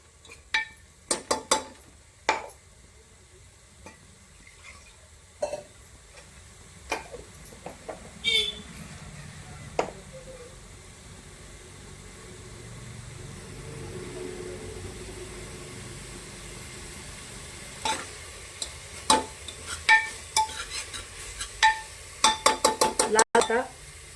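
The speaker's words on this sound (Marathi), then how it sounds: "कांदा अद्रक लसूण लाल परतून घ्यायचा" Onion, ginger and garlic frying in a pan for a rustic goat mutton curry, with a soft sizzle under scattered sharp clinks and scrapes of a spoon stirring against the metal pot, close.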